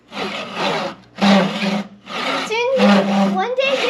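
A Japanese pull saw cuts through wood in four long, loud rasping strokes with short pauses between them, close to the microphone, with brief talking over the later strokes.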